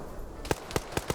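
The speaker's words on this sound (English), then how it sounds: "He threw a grenade too?" Grenade blasts in a High Kommand PvP video game match: four sharp, booming bursts spaced roughly a quarter-second apart, fairly loud over a low background, with no talk.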